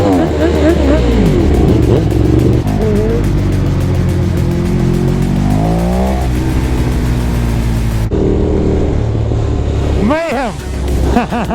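A crowd of motorcycles at a huge street rideout in Ireland, loud engines revving and roaring close by in overlapping surges, with a sharp rev near the end and people talking over the din.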